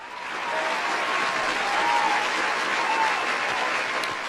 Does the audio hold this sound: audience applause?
yes